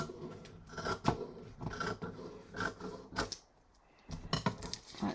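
Scissors snip through a piece of paper or card in a crafting session, a series of close, crisp cuts in irregular bursts with a short quiet gap, no speech.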